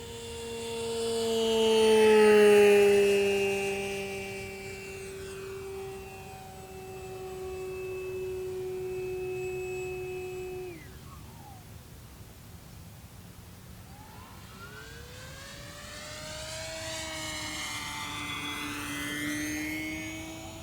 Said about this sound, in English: This is going to be a full speed pass on 4-cell.